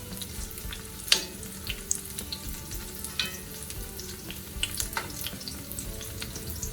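Green tomato fritters sizzle steadily in hot oil, a continuous crackling hiss with scattered sharper pops, close by and without talk.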